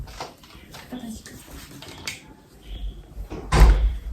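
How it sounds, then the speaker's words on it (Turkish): A home door is pushed shut with a single solid thud near the end, preceded by faint shuffling and handling noises close by. "Ben kapıyı kapatacağım."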